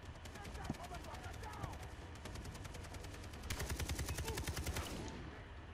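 Automatic AK rifle fire in Far Cry 3, a fast, evenly spaced burst of shots that grows louder and clearer toward the end, set against ambient game sound, with a player talking faintly over it.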